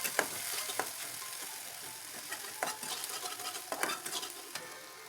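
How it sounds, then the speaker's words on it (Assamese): Sliced onions and cumin seeds frying in hot oil in a pan, a steady close sizzle broken by scraping stirs of a spatula, with no talking. "পিঁয়াজখিনি ভাজি ল'ম অলপ সময় ৰঙচুৱা হোৱালৈকে।"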